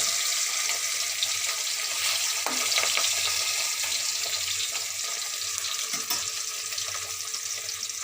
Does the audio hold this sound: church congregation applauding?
no